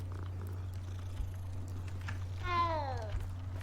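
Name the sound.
cat meowing in the video game Hogwarts Legacy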